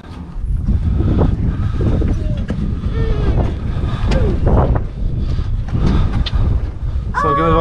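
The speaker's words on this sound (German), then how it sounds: "Und schön windig." Strong wind buffeting the microphone atop a castle tower lookout at Burg Altenburg above Bamberg, a loud continuous roar with gusts, and faint voices beneath it.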